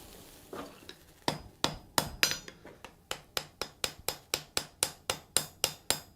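Hot steel hammered on an anvil for a forge weld, a run of about twenty sharp ringing blows, irregular at first then settling into a fast, even rhythm, close and clear with no talk.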